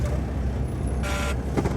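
Truck engine starting in the cab, a short burst of cranking and a catch over a low, steady idle rumble, close and fairly loud.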